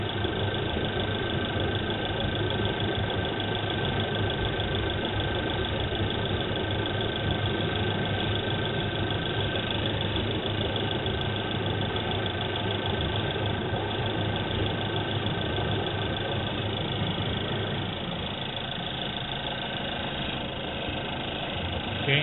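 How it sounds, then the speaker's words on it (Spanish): A Suzuki Vitara Boosterjet idles steadily with its electric radiator fans running, a constant engine hum and fan whoosh that stays loud and even throughout, dropping slightly near the end as the fans switch off. "ya no deben tardar en encender los electroventiladores ya encendieron, vamos a esperar a que se apaguen."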